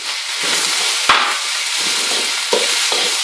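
Carrots, onions, bacon and capsicum stir-frying in a pan for fried rice, a steady close sizzle broken by a couple of sharp utensil scrapes and knocks.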